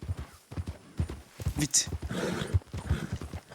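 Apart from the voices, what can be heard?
horse hooves trotting in Red Dead video game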